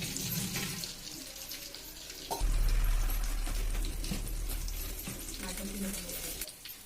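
Water poured into a clay pot of Konkani fish curry on the stove, a steady low rushing pour lasting a few seconds, fairly close and moderately loud, with faint voice in the background.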